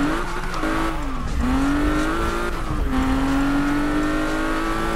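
Nissan GT-R Premium engine revving in the Need for Speed racing game: a loud, close engine note climbs and drops in pitch through several revs, with a faint tire squeal and no talk.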